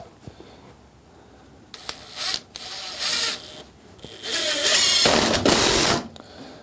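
Makita impact driver sinking a 3.5-inch zinc Phillips-head screw, heard as several loud, close bursts of rapid rattling hammering with short pauses between them and no talking.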